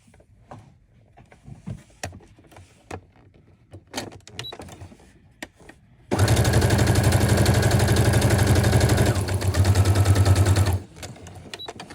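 A sewing machine stitching a garment sleeve runs in one loud, fast, continuous burst of about five seconds, preceded by quiet fabric handling and small clicks and followed by softer handling noise.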